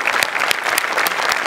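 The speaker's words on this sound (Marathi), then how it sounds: "मस्त झाला परफॉर्मन्स, एकदम जोरदार टाळ्या." Loud, dense applause from a studio audience after a lavani dance performance on a Marathi comedy stage show, steady rapid clapping filling the whole moment with no voices on top.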